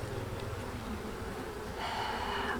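Honeybees in an opened hive give a steady, soft droning buzz close by, swelling slightly toward the end, with no talk.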